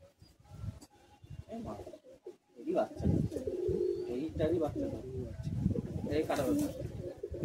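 Pigeons in a loft in Amta give low, throaty, rolling coos close by, a steady chorus of murmuring calls with a few soft flutters and knocks.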